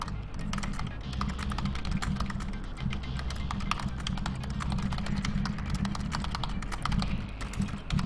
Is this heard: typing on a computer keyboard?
yes